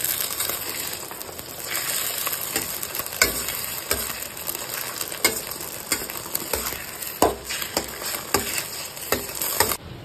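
Food fries in a pan with a steady broadband sizzle, broken by frequent sharp utensil scrapes and taps as it is stirred, close and fairly loud with no voices.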